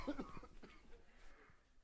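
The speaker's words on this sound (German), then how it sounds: "Ich habe ganz einen mühsamen Husten seit einigen Wochen" A person with a lingering cough of several weeks coughs during a sermon, a harsh burst at the start followed by a few fainter throat sounds, with no talking.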